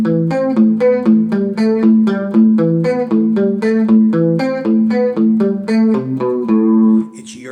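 Electric guitar with chorus and a touch of reverb plays a steady cross-picked arpeggio pattern, close and bright, with shimmering repeated notes and no voice.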